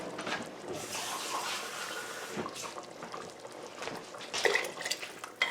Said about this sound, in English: I fill this with water and add this in there.